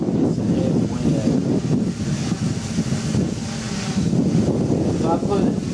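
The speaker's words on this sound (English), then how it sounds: "Even with all this wind, it's a heavy wind." Heavy outdoor wind buffeting the microphone while a Traxxas Aton drone is flown, a loud, steady roar that persists throughout.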